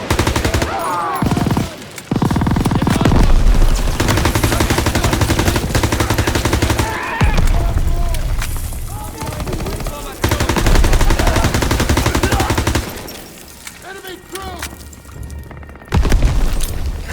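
Machine gun fire rattles in long sustained bursts with booms and explosions during a Call of Duty WW2 D-Day beach battle, loud and continuous, with shouted voices in the mix.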